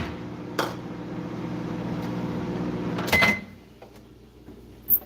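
A microwave oven runs with a steady low hum, then stops after about three seconds with a clunk and a short beep, followed by a quieter room and a later click.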